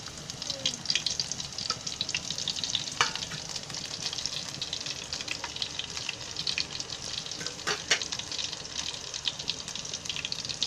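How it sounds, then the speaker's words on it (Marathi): Crushed garlic in hot oil in a pan, a steady, fairly quiet crackling sizzle that runs evenly throughout with occasional brighter pops. "अजून तेल गरम झालेलं आहे, त्याच्यामध्ये ही लसूण टाकते."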